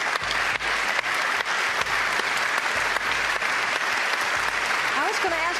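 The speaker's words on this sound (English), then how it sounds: "I'm going to give them again a big applause, and I hope you will join me" Audience applause during an award dedication to the Spanish World Cup football team, sustained clapping from a large crowd at moderate loudness with a few louder claps.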